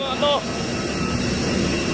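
A boat's loud engine at Caticlan in the Philippines, a steady close broadband roar filling the whole stretch, with a brief voice-like tone near the start.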